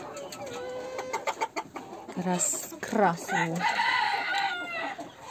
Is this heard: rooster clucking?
yes